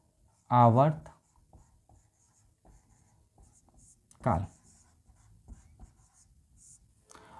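Chalk or marker scratches faintly on a board during a Class 12 physics lecture, soft and intermittent between two short bursts of a voice.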